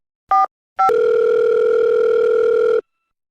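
Outgoing phone call ringing tone, heard during a call to a mother in a household setting: a short tone burst, a brief pause, then a steady unbroken tone lasting about two seconds before it cuts off, loud and close.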